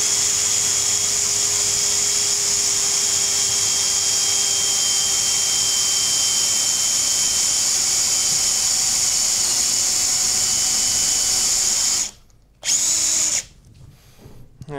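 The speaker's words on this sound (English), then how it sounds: "make sure my drill's on its fast setting, and just try and keep it nice and straight" A power drill on its fast setting bores through wood while carving a kuksa cup, a steady, high whine for about twelve seconds, then cuts off, briefly restarts, and stops again.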